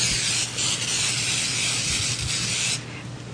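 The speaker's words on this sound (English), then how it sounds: "I'm going to spray my pan first" Cooking spray hisses onto a pan in a loud, steady aerosol burst lasting under three seconds, briefly wavering in strength before cutting off.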